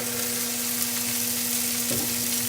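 Zucchini sizzling in a pan with crushed pepper and seasoning, a steady dense frying hiss with a faint stir near the end.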